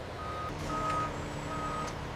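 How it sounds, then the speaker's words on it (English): Reversing beeps sound from a truck backing into a loading bay at an ammunition factory, three evenly spaced steady tones over a low engine rumble and hum of activity. "Truck 402 is backing into Bay 2."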